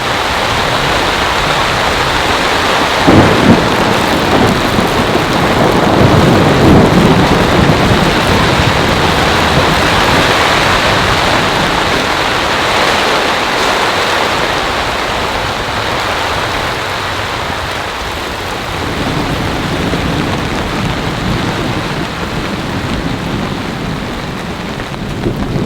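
Heavy rain pours steadily around a campsite during an intense storm, a dense continuous roar, with low rumbles of thunder rolling underneath early on and a slight shift in the downpour later.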